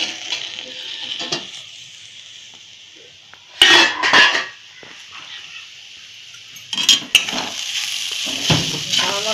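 Sabudana (sago) khichdi is stirred in a pot, with a few short bursts of scraping and clinking from a spoon against the metal over a faint background hiss.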